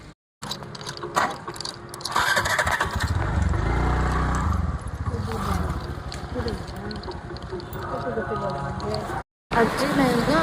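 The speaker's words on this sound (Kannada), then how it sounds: "ಬೈಕ್ ತಗೊಂಬರ್ತಾರೆ." A motorcycle is started and revs up outdoors on a hot day, the engine catching after a brief mechanical clatter and then running loudly and steadily, with people talking over it.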